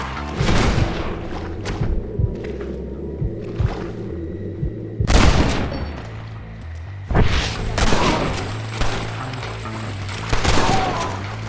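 Gunfire in the video game Red Dead Redemption: loud, scattered volleys of shots in several bursts, with echoing booms between them over a low background hum.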